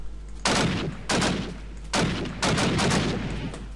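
Gunfire from guns in Minecraft's Flan's Mod: four loud, close bursts of rapid automatic shots with short gaps between them, over a steady low hum.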